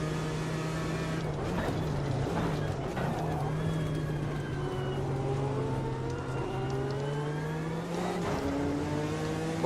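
A Porsche race car engine in Gran Turismo 4 drones steadily and loud throughout, with rising and falling pitch sweeps as it revs through gears, and brief dips where it shifts.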